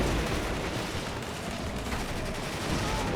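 Gunfire rolls without a break in the WARNO strategy game, a dense wall of overlapping shots and blasts, loud and steady throughout with no single shot standing apart and no voices.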